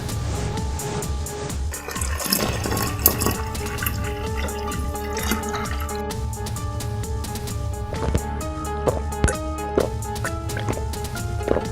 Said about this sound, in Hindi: बाल्टी से कुएं का पानी खींचता है